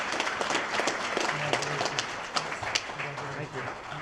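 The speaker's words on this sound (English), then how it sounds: "So if I can, just one more round of applause." A banquet audience at a labor education awards dinner gives a round of applause, steady clapping under a voice speaking over it.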